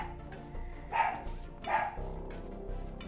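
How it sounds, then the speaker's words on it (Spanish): Dogs barking at a house, two distinct barks about a second apart over low background noise, moderately near. "están ladre y ladre desde hace rato. Nada más escuchan cualquier ruidito y ya, con eso ladran."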